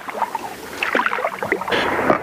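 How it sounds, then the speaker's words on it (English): Paddle strokes pulling a boat upstream against the current on the Black River in Wisconsin: close, splashy water churning in uneven pulses with a steady background wash. "Actually have to paddle pretty hard."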